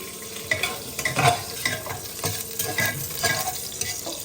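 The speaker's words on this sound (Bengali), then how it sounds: "ঘি দিলাম এই যে দারুচিনি এলাই তেজপাতা" Hot ghee sizzles in a pot with cinnamon, cardamom and bay leaves, a busy crackling fry broken by repeated close stirring scrapes, loud and alone with no talking.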